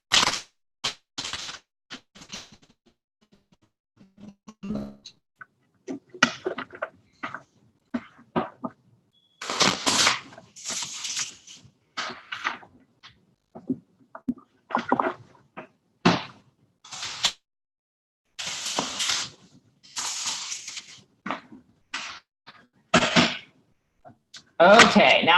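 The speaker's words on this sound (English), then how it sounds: "I'll give it 4 more shuffles." Tarot cards being shuffled by hand, a run of short crisp riffling and slapping bursts with brief gaps, close and fairly loud, with no talk over them.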